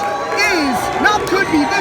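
A wrestling crowd in Hamburg cheers and whoops for Jerry "The King" Lawler during his match against Kras VanTasel, a loud, steady roar with shouts rising above it under a commentator's voice.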